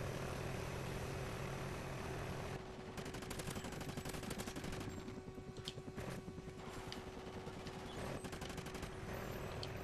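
Video game audio from Call of Duty: Ghosts: rapid bursts of automatic gunfire rattle over a steady droning attack helicopter rotor hum, continuous and dense for several seconds.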